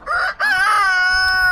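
A rooster crows loudly and close by, one long cock-a-doodle-doo with a brief break near the start, then a sustained drawn-out call.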